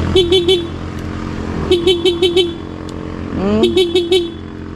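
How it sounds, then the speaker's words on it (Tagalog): A vehicle horn toots in quick rhythmic bursts, three groups of rapid honks over a steady idling engine, loud and close. "Pindot busina na lang."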